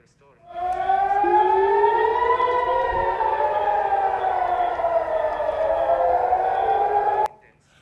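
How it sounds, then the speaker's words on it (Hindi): Air raid sirens wail across Kuwait, several civil defence tones rising and falling together in a loud, sustained chorus that starts abruptly and cuts off near the end, with no talk over them. "ईरान से दागी गई मिसाइलें कुवैत के आसमान में पहुंची तो वहां हवाई हमले के सायरन गूंज उठे"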